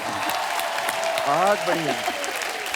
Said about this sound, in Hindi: शान साहब के लिए जोरदार तालियां हो।